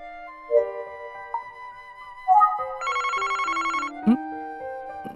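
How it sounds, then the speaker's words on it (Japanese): A telephone rings in the Famicom Detective Club: The Girl Who Stands Behind game, a trilling electronic bell pattern lasting about a second over a soft synthesized melody, with chiming notes around it. "電話だ。"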